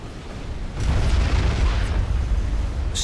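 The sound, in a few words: Mavor artillery shell exploding in Supreme Commander Forged Alliance video game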